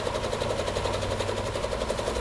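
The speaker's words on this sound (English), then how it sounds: "that's as fast as my machine is going to run" A PQ3000 quilting sewing machine running at full speed, a steady close mechanical whir with a fast even rhythmic pulse and no talking.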